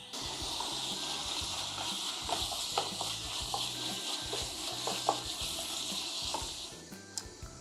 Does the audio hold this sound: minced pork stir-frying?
yes